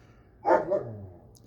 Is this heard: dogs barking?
yes